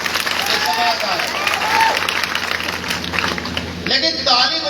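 A crowd at a Bhim Army political rally in Tikamgarh, Madhya Pradesh, applauds in a dense, steady wash of clapping and crowd noise, with a voice speaking over it.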